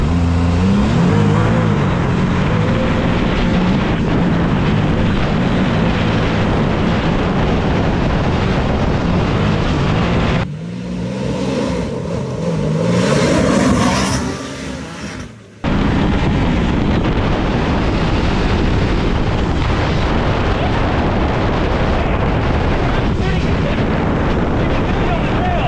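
A 2024 Can-Am Maverick R side-by-side tears past on rough ground, its engine roaring loud and steady for the whole run, dipping briefly mid-pass before surging back at full volume, with voices talking over it.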